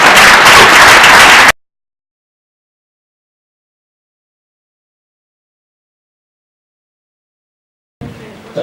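An audience at a Toastmasters contest award ceremony claps loudly in a dense burst of applause for a speaker, followed by a long silence and a brief return of noise.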